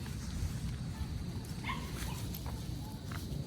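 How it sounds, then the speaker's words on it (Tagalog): Dogs and puppies at a large cemetery give small yips, whimpers and soft barks over a steady low background rumble, close by and moderately loud, with faint voices now and then. "So may nakita akong mga tuta, mga aso doon"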